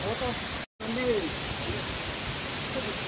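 Steady broadband roar of the Lamassua waterfall in Bontomasunggu village, Bone, filling the whole clip at constant loudness, with faint voices of people talking beneath the rushing water.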